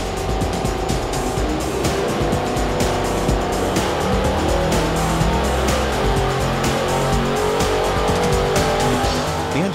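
A crate LS2 V8 engine runs on a dyno during oil testing, roaring loudly and steadily at high revs without a break.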